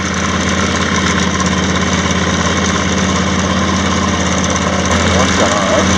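A 2017 John Deere X350 lawn tractor's engine running steadily and loudly up close while cutting grass, a constant droning hum with no break.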